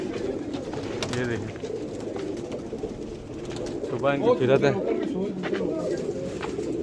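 Many pigeons coo in a crowded loft, a dense, continuous burbling murmur close by, while someone speaks over the flock.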